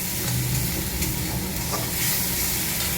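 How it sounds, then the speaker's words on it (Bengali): Spice paste fries in a pan with a loud, thick crackling sizzle and constant stirring, heard up close, with no one talking. "মশলাটাকে একটু ভালো করে ভেজে নেবো।"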